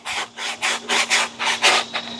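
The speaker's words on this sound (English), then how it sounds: "This is 100 grit. And just kind of start sanding it." Rough, scratchy sanding strokes on wood with 100-grit sandpaper, about eight steady back-and-forth passes in a regular rhythm, close and fairly loud.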